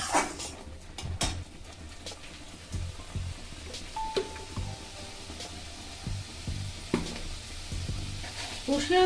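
A spice mix of ground coriander and other spices sautés in a pan, soft intermittent sizzling broken by stirring scrapes and knocks of a spoon against the pan, fairly quiet and close.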